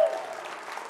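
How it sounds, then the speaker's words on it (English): Brief burst of crowd applause, steady clapping from many hands at moderate distance. "Guys, give him a big round of applause."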